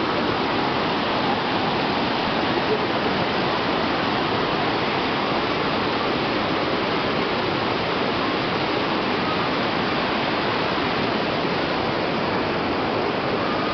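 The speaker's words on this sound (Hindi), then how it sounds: "ये नदी है ये आप देख रहे हैं, ये गंगा जी कहते हैं इनको भी" Rushing river water flows steadily beside the Chamunda Devi temple, a broad, even roar with no breaks, close and full, with no voices over it.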